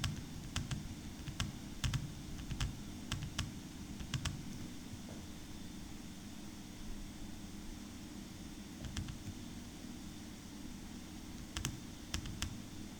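Quiet keystrokes on a computer keyboard, typing an entry into an Excel spreadsheet, with irregular clicks in short clusters over a steady background hiss.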